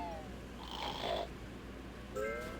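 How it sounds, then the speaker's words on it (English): A creature snoring in a video game, two drawn-out rasping breaths with a pause between, moderately loud over a quiet background hum. "That is a surely a loud snore."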